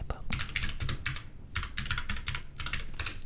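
Fast keyboard typing in bursts with brief pauses, close and crisp, in a quiet indoor setting beside a fireplace; no talking.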